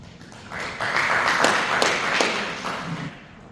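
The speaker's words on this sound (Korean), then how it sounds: "큰 박수로 맞이해 주시기 바랍니다" Audience applause at a Korean port-logistics seminar as a presenter is welcomed to the stage on the future of Busan container terminals. The clapping is moderate and steady, swelling after half a second and lasting about three seconds before easing off.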